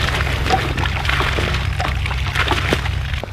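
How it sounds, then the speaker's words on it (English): Water gushing hard and steadily from a spigot on a newly installed well pump casing, a loud continuous rush with a low mechanical drone beneath it throughout. "And we're pumping water that fast."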